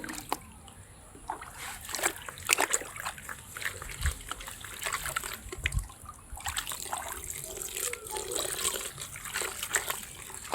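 Water is poured and splashes over small wolffia plants held in a sieve at a catfish farm, with irregular bursts of splatter and trickling and faint background voices.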